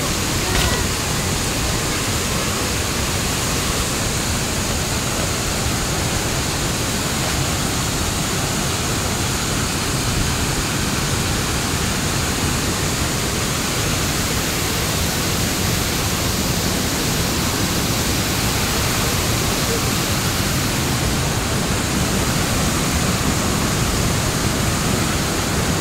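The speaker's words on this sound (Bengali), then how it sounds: "আর এই যে জলটা এখান দিয়ে বেরিয়ে নিচে দিকে চলে গেছে।" Water pours down Sana Ghagra falls in Odisha, a dense, steady rushing roar that fills the whole stretch at constant loudness, close and unbroken.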